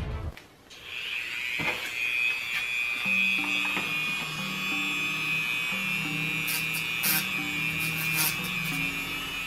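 A power tool fitted with a small sander bit grinds against metal in a steady high whine, its pitch holding even while scraping and rubbing knocks come and go beneath it.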